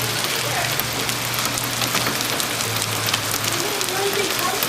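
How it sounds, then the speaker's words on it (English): Heavy hail pours down outdoors in a dense, steady patter that fills the whole clip, close and constant, with a faint low hum underneath. "here we are with pouring hail outside."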